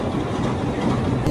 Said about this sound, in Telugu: స్టార్ట్ అయిపోయింది, చూస్తున్నారు కదా, ఇదే ట్రైన్.